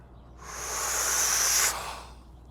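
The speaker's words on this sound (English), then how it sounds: "Drawing in with pressure through pursed lips at the start." A single long in-breath drawn with pressure through pursed lips, a breathy hiss that swells for about a second and a half, then stops abruptly; close and alone.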